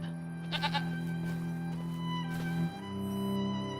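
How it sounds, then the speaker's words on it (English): Goats bleating in the Farming Simulator 25 video game, a few close, wavering bleats rising over a low steady farm ambience, with one longer bleat toward the end. "One goat."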